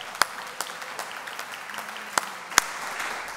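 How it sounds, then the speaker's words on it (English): A church congregation applauds the preacher, Reverend Dr. Daniel Lee, with sparse, scattered claps: a few sharp, distinct hand claps stand out over a quiet room. "I didn't even have to tell you to clap"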